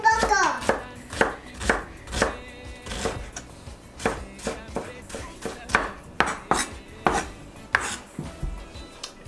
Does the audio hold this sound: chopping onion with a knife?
yes